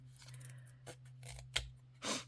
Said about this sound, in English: I want to take my scissors and I'm going to cut just somewhere in here